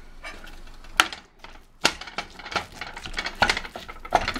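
Ground beef seasoned with salt and pepper being stirred and broken up in a pan at home, with a scraping utensil knocking against the pan in irregular sharp clinks and scrapes.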